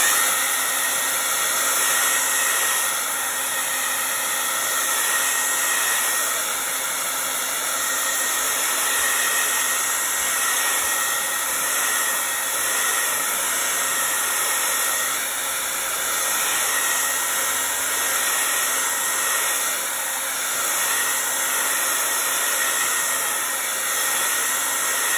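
A hair dryer blows steadily on wet paint, a constant loud whooshing hiss that runs unbroken and alone for the whole stretch.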